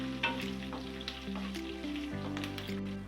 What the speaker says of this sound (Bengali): এরপরে আমি দিয়ে দেবো কারি পাতা ও কটা কাজু দিয়ে দেবো আমি অল্প করে। এগুলো একটু হালকা করে আবার একটু ভেজে নেব।